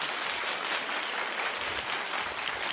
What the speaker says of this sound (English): Clap if you remember